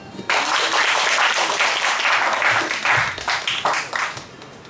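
A crowd applauds at a fan club launch event for a singer, a dense wash of clapping that starts abruptly and rolls on steadily, loud and close, thinning slightly toward the end.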